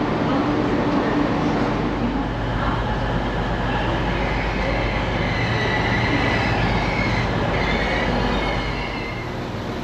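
A train to Driffield, Yorkshire, rumbles steadily along the rails, loud and close, with a continuous roar and faint metallic squeal, easing slightly near the end.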